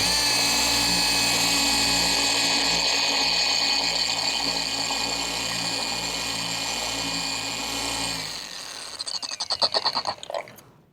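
RUPES dual-action polisher whirring at speed setting 2 while priming a coarse pad, a steady high-pitched whine for about eight seconds that winds down and stops with some clattering.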